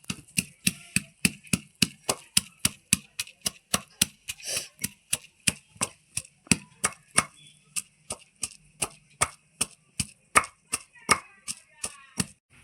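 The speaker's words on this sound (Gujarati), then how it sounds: "આ લસણ વાળું મરચું છે ને ખાંડી નાખવાનું છે" Garlic and green chili pounded together in a mortar with a pestle, steady sharp thuds repeating about twice a second, close and clear with no talk.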